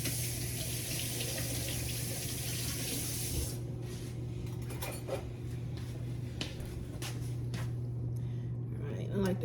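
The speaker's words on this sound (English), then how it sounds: "I'm gonna rinse my grapes off." Kitchen tap water runs steadily into a sink while grape tomatoes are rinsed, a continuous close splashing hiss that shifts partway through as the stream hits the tomatoes, with a voice speaking over it.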